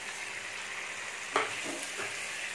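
Chicken pieces, already fried, are stirred into a sizzling masala in a pan for Chinese-style fried chicken, giving a steady close fry hiss with a few soft scraping stirs partway through.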